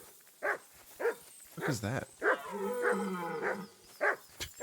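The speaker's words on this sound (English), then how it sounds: "It's a dog barking at a deer." Dog in a video game barking at a deer, a series of sharp, evenly spaced barks close by, with a person speaking briefly between them.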